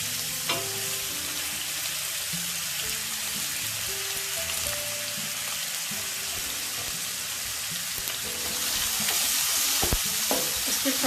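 Spring onion and shredded cabbage stir-frying in a hot pan for vegetable fried rice, a loud dense hiss filling the whole stretch, with quiet background music and a few sharp clatters near the end.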